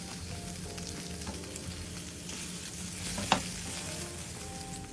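Burgers frying in a pan, a quiet continuous sizzle and crackle with one brief sharp tap partway through.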